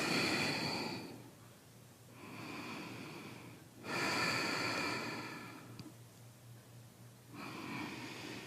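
Slow, deep breaths during a yoga plank pose, audible close up as long airy inhales and exhales in a steady rhythm of roughly three cycles, with no talking.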